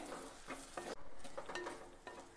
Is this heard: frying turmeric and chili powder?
yes